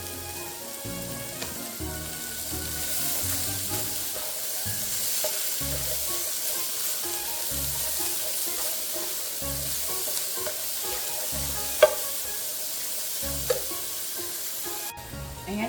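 Celery and carrot fry in chicken oil in a pan for home-style pancit, a steady close sizzle with occasional stirring scrapes and a couple of sharper clinks.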